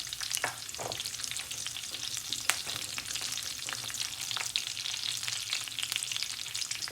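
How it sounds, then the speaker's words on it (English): Mustard seeds and urad dal fry in hot oil with curry leaves, making a constant close sizzle dotted with sharp pops from the bursting seeds. "Let them pop and fry for about 2 minutes."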